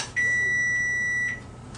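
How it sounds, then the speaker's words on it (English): A single long, steady electronic beep from an oven timer signalling the oven has preheated to 375 degrees, sounding alone against a quiet kitchen hum. "That's the timer telling me that the oven has been properly preheated to 375 degrees"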